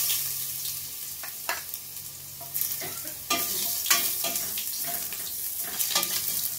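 Chopped ginger is sautéed and stirred in a pan, a close sizzle broken by repeated sharp scraping strokes and clatters at an irregular rhythm, with no one speaking.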